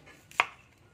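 A single crisp knife chop through garlic and onion on a cutting board, close and sharp, with a faint tail afterward and no talking.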